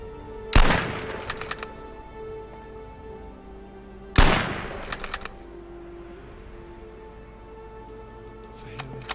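Two sharp, loud gunshots from a video game, each with a quick tail of smaller cracks, spaced a few seconds apart over quiet background hum, with another burst starting at the end.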